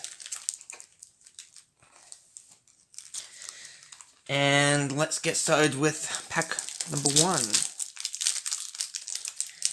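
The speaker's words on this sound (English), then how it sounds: "we are ready to start unwrapping" Yu-Gi-Oh Lightning Overdrive booster pack wrappers torn open by hand, crinkling and ripping foil in short bursts, partly under someone speaking.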